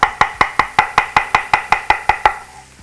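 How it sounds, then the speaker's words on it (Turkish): A knife chopping mushrooms on a cutting board in a home kitchen: about a dozen crisp, evenly spaced chops in quick succession, loud and close, then a brief fade. "En zevkli şey biz aşçılar için mantar doğramaktır."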